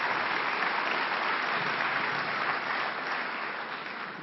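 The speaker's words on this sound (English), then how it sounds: "Give him a round of applause." A hall of fame ceremony audience applauding, broad even clapping that holds steady and then eases slightly toward the end, moderately loud and alone.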